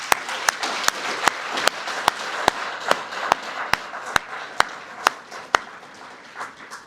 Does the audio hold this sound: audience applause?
yes